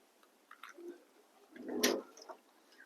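Pigeons in a loft give faint, soft cooing and light rustling sounds, with one fuller burst midway in a quiet space.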